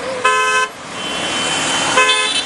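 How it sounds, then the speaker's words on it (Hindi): Car horns honk loudly in two bursts, one near the start and one near the end, over a continuous traffic roar as a vehicle pulls away. "और अब चल रही गाड़ी।"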